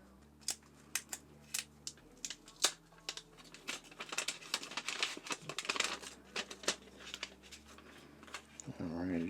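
Plastic wrap crinkles and tears in sharp, irregular bursts as it comes off a white Xiaomi 15 Ultra phone box, close and fairly loud, with a few rustling handling noises along the way.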